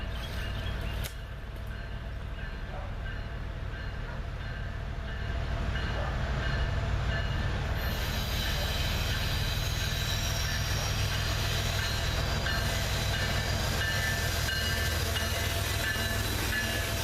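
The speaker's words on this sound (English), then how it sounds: "a new ET-44 locomotive, leading a Norfolk Southern train towards Bridgeport, Alabama" A Norfolk Southern freight train led by a new Canadian National ET-44 locomotive rolls past near Bridgeport, Alabama, with a steady low rumble of wheels and cars that grows louder midway and continues heavily throughout.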